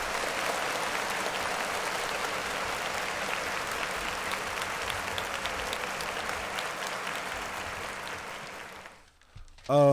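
Steady applause from a large crowd fills most of the clip, then cuts off abruptly near the end as a voice begins.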